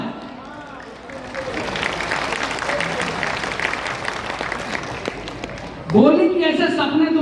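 Audience applause at a poetry festival, the Shravasti Mahotsav 2024, rising into a sustained wash of clapping for several seconds. Someone talks over the start, and his voice returns loud and close as the clapping fades.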